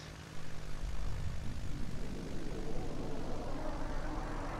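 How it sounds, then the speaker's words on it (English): Antonov An-10 engines in the Roblox flight game Aeronautica rise from a low rumble into a loud, steady airplane drone that builds after the first second and holds without pause. "So let's turn on the engines."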